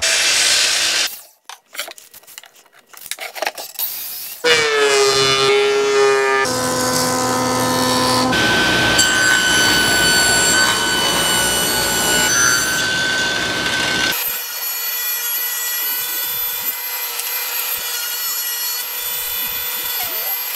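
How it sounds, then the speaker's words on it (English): Power tools milling down wood for table legs, loud whining and buzzing cuts in several bursts with steady machine hum between them, close by and with no voices. "we'll get on to milling down the wood for the legs"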